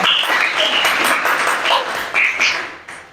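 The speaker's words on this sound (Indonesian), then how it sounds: "tepuk tangan buat kelompok 2" Classroom applause for a student group, a loud, close burst of many hands clapping that swells and then tapers off abruptly near the end, with no one talking over it.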